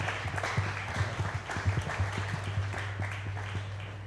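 A crowd claps steadily at a baseball championship celebration, heard at a moderate distance over a constant low hum.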